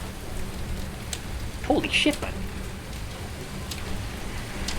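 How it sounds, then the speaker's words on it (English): Torrential rain with picking-up wind, steady dense rushing downpour throughout, while a man briefly exclaims over it. "Dude, this rain is torrential."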